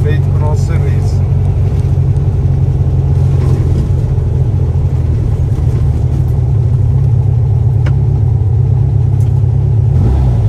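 A steady, loud engine rumble from a 1966 Volkswagen Beetle with a fuel-injected 2100 engine runs throughout, a constant low drone with a slight rise in revs near the end.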